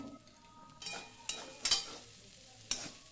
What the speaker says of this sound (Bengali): দিয়ে খুব ভালো করে নেড়ে চেড়ে সুন্দর একটা ভাজা ভাজা করে নেব